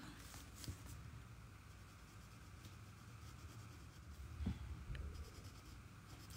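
A fairly thick pen draws Zentangle ink patterns on paper, producing faint, close scratchy strokes in a quiet room with occasional small taps.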